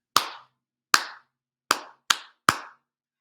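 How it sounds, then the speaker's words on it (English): Bare hands clap out a simple rhythm: five sharp, dry claps, uneven in spacing, each ringing briefly in a quiet room. "I clap a rhythm, and then the student goes and finds that rhythm"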